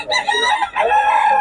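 Roosters at a poultry spot in Bocaue, Bulacan crow loudly and close by, two drawn-out calls in quick succession with a brief break between them.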